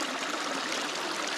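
A creek flowing near a gold-prospecting area in the trees, a short steady rush of running water at close range with no voices.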